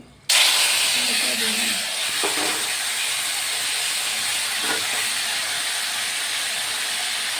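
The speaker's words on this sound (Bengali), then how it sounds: "তেলটা গরম হইলে শস্য ফোড়ন দিব" Whole spices tempering in hot oil in a kadai, a sudden loud hiss that starts abruptly and holds as a steady, broad sizzle, with a faint voice briefly underneath.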